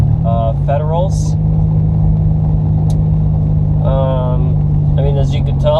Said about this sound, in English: as you can tell, maybe I'm having a little bit of a idle issue